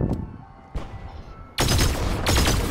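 Bursts of rapid gunfire in a battle royale shooter game, a short shot early and at about 0.8 s, then dense sustained automatic fire filling the last second, loud and close.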